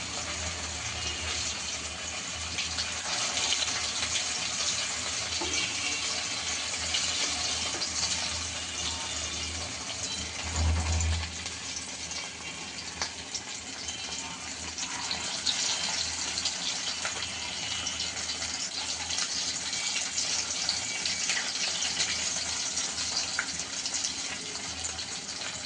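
Beef kebabs fry in oil with a loud, unbroken hiss that holds steady throughout, marked by a single low thump partway through, with no talking.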